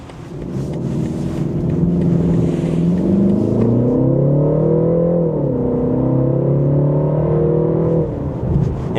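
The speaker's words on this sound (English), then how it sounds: "since we are going to take a sharp turn here and put the power down, I'm going to put the 330i in sport mode." A 2025 BMW 330i (G20 3 Series) in sport mode accelerating hard out of a turn, its engine note rising steadily through a smooth upshift and pulling loud and close from inside the cabin.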